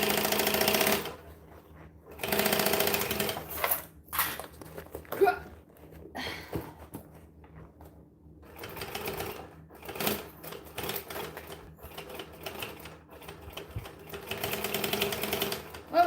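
Sewing machine stitching a bag, several bursts of rapid mechanical stitching separated by pauses, with quiet handling sounds in between.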